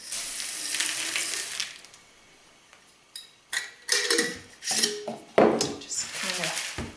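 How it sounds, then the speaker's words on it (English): Dried fruit is dumped into a jar partly filled with water, giving a cluster of clattering, splashing knocks against the glass after a short quiet pause, fairly close and moderately loud. "dump my fruit into here."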